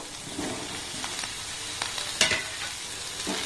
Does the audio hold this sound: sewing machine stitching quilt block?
no